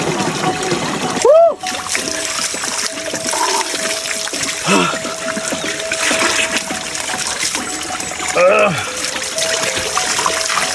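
Natural spring water in the Mindanao countryside flows and splashes steadily and close, a continuous wash of trickling liquid, while someone talks and cheers over it.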